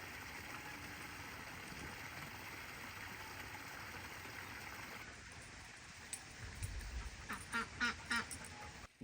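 Ducks and geese quack and honk on grassy homestead ground, faint and distant at first, then a burst of closer, louder calls in quick succession.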